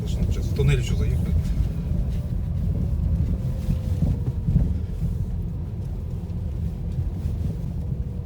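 A Lada Vesta Cross drives through a tunnel, its steady low road rumble and engine drone echoing throughout as people talk inside the car.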